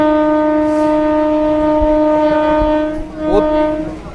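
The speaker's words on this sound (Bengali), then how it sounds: "বন্ধুগণ বলগোনা ছেড়ে এখন আমাদের ট্রেন ভাতারের পথে রওনা দিল" A local train on the Katwa–Barddhaman line sounds a long, loud, continuous horn while running, with rumbling wheels beneath and a brief dip and swell near the end.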